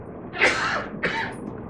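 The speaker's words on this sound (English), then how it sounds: "He's coughing." A man coughs twice at close range, a harsh burst followed by a shorter second one, with no talking.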